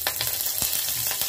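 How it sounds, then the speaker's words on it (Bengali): Oil with cumin seeds and curry leaves sizzles steadily in a pan for a healthy vegetarian breakfast, a close, continuous frying hiss broken by a few brief stirring knocks. "এর মধ্যে দিয়ে দিচ্ছি আমি একটু সাদা তেল, একটু জিরে দিয়ে দেবো, 2-4টা কারি পাতা"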